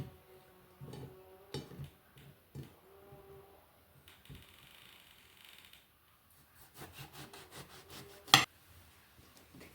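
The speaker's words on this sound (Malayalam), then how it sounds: "ചെറിയ കട്ടി കുറഞ്ഞ് ഇങ്ങനെ വട്ടത്തിൽ വട്ടത്തിൽ അരിഞ്ഞെടുക്കുക" Knife slicing brinjal into thin rounds on a board, a series of soft crisp cuts and taps, close and quiet with gaps between strokes and a quicker burst of chopping near the end.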